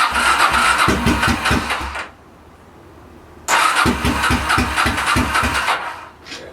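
A Honda VT700 motorcycle engine with the choke on, cranking in two loud, rhythmic bursts separated by a quiet pause, the second run sustaining longer before fading.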